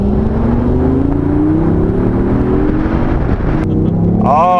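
The small three-cylinder engine of a BMW i8 hums and rises in pitch as it accelerates steadily, a droning rasp building nearby, with a brief higher whine near the end.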